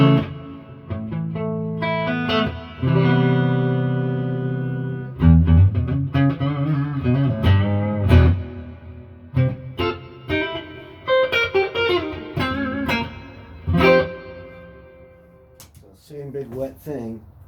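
An electric guitar plays through a repaired EZG reverb unit set very wet, giving sustained chords and picked notes with long washing tails and some distortion, loud and close.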